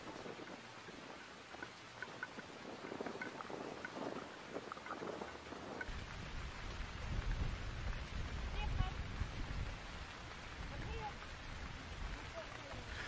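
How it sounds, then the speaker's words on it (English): Steady rain falls on an open grouse moor in Farndale at the end of a shooting day, a continuous hiss with wind buffeting the microphone that grows heavier and louder midway through. "The rain has still not let up"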